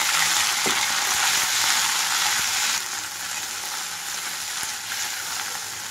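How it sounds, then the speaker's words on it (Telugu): Mint and coriander leaves with green chillies fry in a pan over medium flame, giving a steady, loud, close sizzle with a few faint utensil taps, no voices. "రెండు నిమిషాల పాటు మీడియం ఫ్లేమ్లో ఉంచి వేయించుకుంటున్నాను వీటిని"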